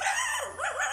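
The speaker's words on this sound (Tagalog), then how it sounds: "Aso." A dog gives a short, rising and falling howling bark, close and loud, with no talking.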